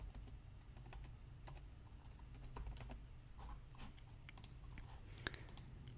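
Quick irregular clicks of fingers typing on a computer keyboard, close and fairly quiet, in short bursts over a low steady room hum, with no talking.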